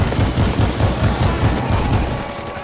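Gunfire in the zombie shooter video game World War Z: Aftermath, rapid rhythmic automatic bursts repeating at an even pace, loud and close, with no talking.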